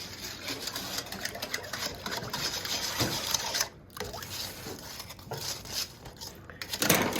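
Baked oatmeal ingredients being stirred in a bowl, a steady scraping and mechanical whirr running throughout with brief gaps and a louder burst near the end, no talking.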